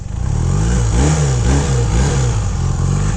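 A 1981 Honda CM400T motorcycle's dual overhead cam four-stroke twin revs loudly and close up, its pitch rising and falling in several repeated blips over a constant rumble, with no one speaking.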